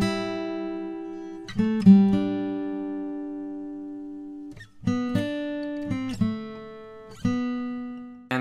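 A short melody of ten randomly generated notes, played as sustained tones with clear pitch that glide and step between notes, with pauses between phrases, clean and alone.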